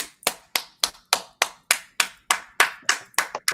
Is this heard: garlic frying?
no